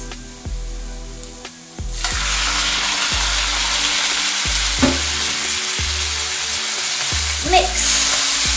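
Shrimp curry with tomato slices sizzles steadily in a hot pan while being stirred, with a continuous frying hiss broken by repeated scraping and clanking strokes of the utensil against the pan.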